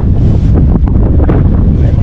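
Strong wind buffets the microphone outdoors during a fishing trip, a loud, constant low roar and rumble with gusty bursts and faint splashing water beneath.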